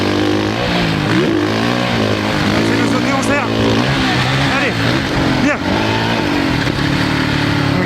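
A 450 motorcycle ridden through sand, its engine revving hard with repeated throttle bursts, close and loud throughout, with a rider's voice talking over it.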